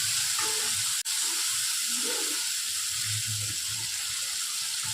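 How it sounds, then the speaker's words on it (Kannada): Paneer frying in a pan, a continuous bright hiss and sizzle throughout, close and even, with a sharp momentary dropout near the start and faint low clatter beneath. "ಪನ್ನೀರ್ 2 ಕಡೆ ಸಹ ಫ್ರೈ ಆಗಬೇಕು."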